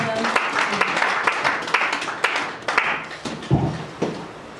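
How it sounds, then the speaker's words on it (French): A church congregation at a Sunday service applauds, with scattered sharp individual claps over a looser, uneven patter that thins out toward the end, close by, with some voices mixed in. "Applaudissons pour la gloire de Dieu"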